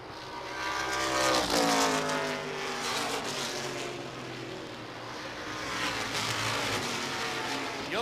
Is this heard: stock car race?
yes